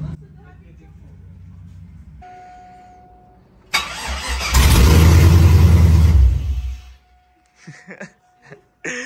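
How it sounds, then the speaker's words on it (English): A GMC Denali single-cab truck fitted with long tube headers cranks and fires up, roaring loudly for a couple of seconds before settling and cutting out, with people talking nearby before and after. "First test, fired right up pretty smoothly."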